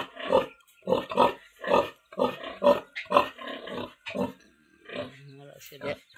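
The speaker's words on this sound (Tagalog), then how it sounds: "Ito ko yung baboy." A pig grunting in a rapid rhythmic series of close, loud oinks and snorts, continuing steadily with brief pauses near the end.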